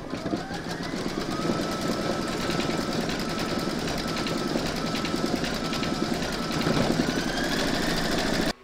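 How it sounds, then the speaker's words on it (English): A sewing machine stitches a quilting round on a large square scallop placemat, its needle running in a steady, fast, even rhythm that keeps going close up for the whole stretch before stopping abruptly. "Load your thread colour for your quilting into your machine, and then you're going to stitch round number 7"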